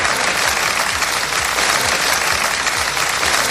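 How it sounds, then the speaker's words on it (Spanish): A crowd gathered in front of Pamplona City Hall bursts into applause to end a minute of silence, dense steady clapping, loud and unbroken throughout. "Escuchas los aplausos con los que se rompía ese minuto de silencio."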